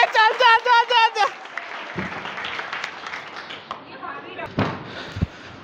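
A theatre audience at a Hindi stage play claps briefly after a prompt, a short burst of applause with scattered thuds and voices continuing around it.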